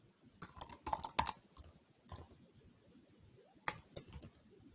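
Typing on a computer keyboard comes in short bursts of quick, close clicks, with a cluster of keystrokes near the start and a few more after brief pauses, quiet and alone.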